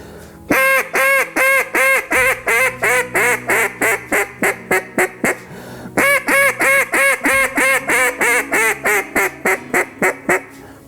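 A duck call blown in a loud hail call cadence, a long run of sharp, nasal quacking notes stepping down in pitch, then a pause and a second descending sequence, close and alone.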